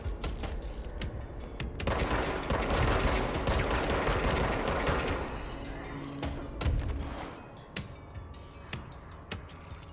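Dense video-game gunfire in the game Control, rapid bursts and thumps crowding together near and loud, thinning into scattered shots and impacts toward the end.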